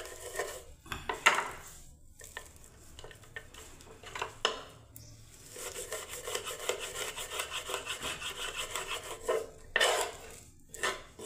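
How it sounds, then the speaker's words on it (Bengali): A knife chopping fenugreek (methi) leaves finely on a board, with bursts of rapid rubbing, scraping cuts broken by short pauses, close up. "প্রথমে মেথির শাকটা কেটে নিচ্ছি।"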